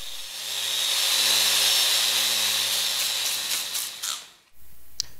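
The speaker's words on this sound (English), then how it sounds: "Shut the power off and shift over to random orbit mode." A Festool RO125 random orbit sander whirs steadily at close range, then winds down and stops, followed by a quiet pause and a small click.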